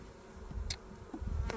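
Honeybees buzz around a hive frame during hive inspection, a soft close droning hum with a couple of brief louder passes of individual bees, no voices.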